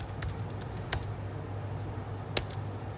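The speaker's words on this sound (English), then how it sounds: "you can actually type in these three" Keys tapped on a computer keyboard while a resume is filled in, a few sparse, faint clicks over steady low room hum.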